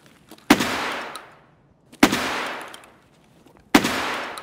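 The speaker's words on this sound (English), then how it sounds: "What a shot with a hollow shotgun." Three loud, close shotgun blasts from the video game Escape From Tarkov, evenly spaced about one and a half seconds apart, each with a long fading echo and nothing else in between.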